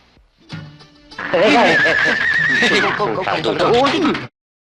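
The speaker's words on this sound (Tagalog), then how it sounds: "Kabayo yun." A horse gives a loud, close whinny that rises and shakes for about three seconds, preceded by a brief voice.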